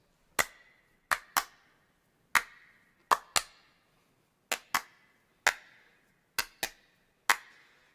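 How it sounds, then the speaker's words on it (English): Hand claps doubled with an ADT (artificial double tracking) effect ring out in close, sharp bursts, often in quick pairs, spaced across the clip with silence between them. "that is going to give us a really cool sound when I clap like this"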